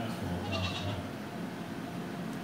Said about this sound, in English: Billy goat!